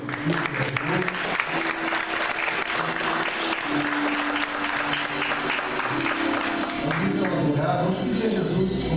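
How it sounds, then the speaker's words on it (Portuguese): Church congregation applause after worship, dense continuous clapping that holds steady and strong throughout, with faint voices mixed in near the end. "Vamos dar uma salva de palmas"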